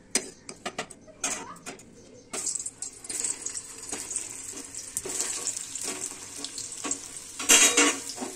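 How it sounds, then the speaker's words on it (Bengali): Potatoes frying in a pan, a close, crackling sizzle that starts in bursts and builds into a steady hiss, broken by clinks and scrapes of stirring, with no one talking. "আগে আলুগুলো ভেজে নিই"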